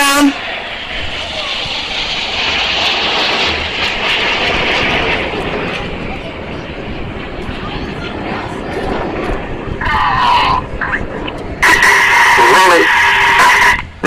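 Red Arrows display jets roar past at the Clacton Air Show, a loud sustained engine rush that swells and falls, with a public-address commentator talking over it and a sharper high whine near the end.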